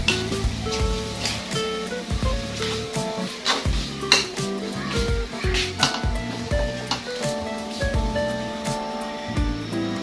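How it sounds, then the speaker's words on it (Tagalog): Pork intestines sautéed in a pan for bopis, with busy metal clanks and scrapes of a utensil against the pan over a constant sizzle, close and fairly loud throughout. "Yung isaw niya, yung bituka, igigisa rin natin yan ng maigi"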